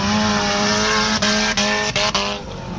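A lightweight Baja off-road car drives past with a steady, loud engine drone and a few brief breaks in the sound, continuous across the short stretch.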